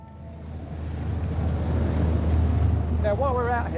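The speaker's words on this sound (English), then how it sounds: "this is a 47 foot boat" A 47-foot Archipelago 47 offshore catamaran underway at sea gives a steady rush of wind and water with low engine rumble, building slightly, and a voice begins speaking near the end.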